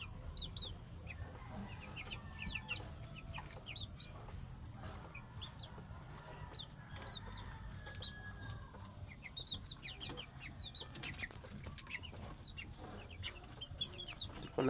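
A flock of chickens clucking and chirping in a steady scattered stream of short calls, fairly faint and mid-distance, over a constant background hiss and low rumble, with no talking.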